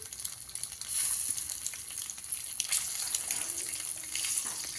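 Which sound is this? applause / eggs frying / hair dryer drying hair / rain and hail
eggs frying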